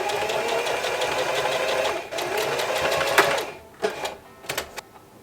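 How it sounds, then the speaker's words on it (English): A sewing machine runs a straight stitch down a dart on a '60s-style dress, a close, fast rhythmic needle chatter that stops and gives way to a few short bursts of stitching. "I'm just gonna do a straight stitch right here that tapers off very slowly"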